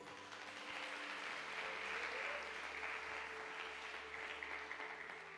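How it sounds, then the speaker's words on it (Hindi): Audience clapping steadily at a Christian church gathering, a continuous even patter of applause at moderate distance with a low background hum, no voices standing out. "ताली बजाएंगे इसके लिए।"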